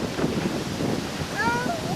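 Wind blowing along a shoreline during a sailing race in gusty conditions, a steady broadband rush with a faint whistling tone rising midway, under a voice.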